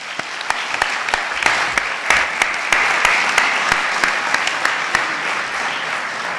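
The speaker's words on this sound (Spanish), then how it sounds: "le damos la bienvenida a la doctora Brun con un fuerte aplauso" An audience claps to welcome a female doctor at a book launch on international change through South-South relations. The clapping is dense and steady, loud and near, with sharp individual claps sticking out, and it goes on for several seconds with no voices.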